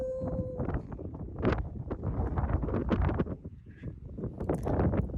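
Strong, shifting wind buffets the microphone on a seaside golf course at Fraserburgh, producing loud gusty rumbles and bursts throughout, with a brief faint tone at the start and no speech.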